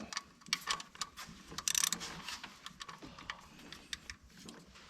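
A ratchet wrench snugs up the thermostat housing bolts on a 2004 Jeep Liberty, making a rapid run of close, dry clicks with a busy mechanical rattle in the background.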